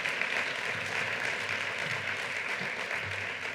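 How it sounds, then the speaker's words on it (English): A crowd applauds steadily at a governor's public event in New York, dense clapping throughout, moderately loud and with no voices over it. "Let's give a round of applause to Ellen Futterman"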